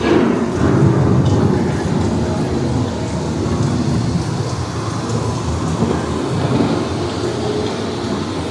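Thunderstorm effect on the Living with the Land boat ride at Epcot, Walt Disney World: steady loud rain-like roar with low rumbling throughout, no speech.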